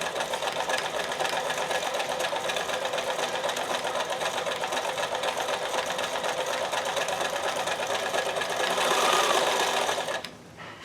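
A sewing machine stitches fabric in a steady, rapid mechanical whir for about ten seconds, then stops abruptly near the end, with no voices.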